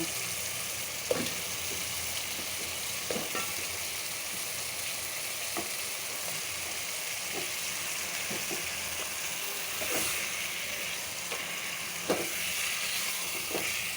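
Rohu fish frying in oil gives a steady, dense sizzle with a constant hiss, broken by occasional soft clicks and scrapes of a utensil, heard close with no talk.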